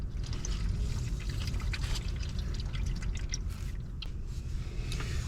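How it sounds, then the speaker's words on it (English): Motor oil draining from a Corvette oil pan into a catch container during an oil change, a steady close trickle and pour with faint drips, continuous and unbroken with no talking. "And I'm going to just let that drain."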